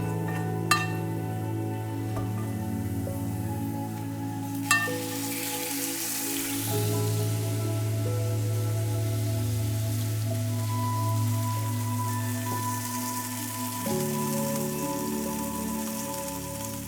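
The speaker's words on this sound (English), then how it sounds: "fry that in a bit of oil to get the garlic flavor into the oil, then fry our steak until it's cooked just as I like it" Steak frying in garlic-infused oil in a pan, a steady broad sizzle running throughout with a couple of brief clinks of utensils, close and fairly loud with no voices.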